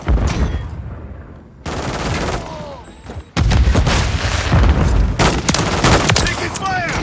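Akimbo shotguns firing in the game Modern Warfare 3, dense rapid blasts and booming gunfire in a loud, sustained barrage with in-game effects and announcer-style callouts mixed in.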